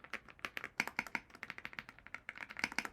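A small, heavy 65% mechanical keyboard is typed on in quick, uneven bursts of crisp clacks, close and clear with no talk over it.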